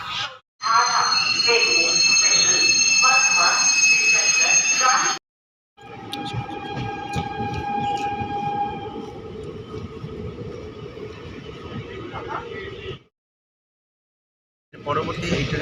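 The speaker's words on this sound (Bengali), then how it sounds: "ট্রেন এখন এসে পৌঁছালো অন্ডাল জংশন স্টেশনে এখানে ট্রেনের স্টপেজ হচ্ছে দু মিনিট" A train arriving at Andal Junction station on the Asansol to Malda route rumbles and hisses steadily nearby with high metallic squeals and tones, the noise cutting off abruptly before resuming briefly.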